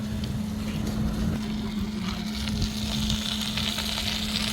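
Meat skewers sizzle in the oven compartment of a camping wood stove heated to about 250 degrees, giving a steady, quiet, close hiss and crackle over a low, constant hum.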